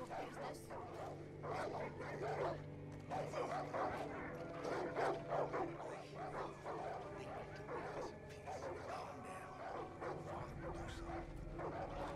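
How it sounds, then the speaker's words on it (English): Dogs bark and yip repeatedly at a distance in Far Cry 5, mixed with ambient outdoor game sound while people talk over it. "Oh, and they have nasty dogs."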